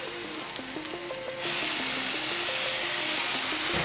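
An egg crepe cooks in a pan, with a soft steady sizzle that jumps to a louder, brighter frying hiss partway through, with faint clinks over a low background hum.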